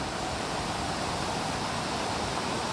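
A continuous, dense rush of floodwater flowing over a road fills the whole clip, a steady broadband roar with no voices.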